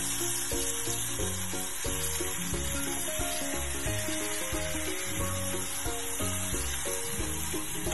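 Chicken asado sizzles steadily in a pan, bright constant frying hiss with soft repeated scraping and stirring strokes underneath, no voices.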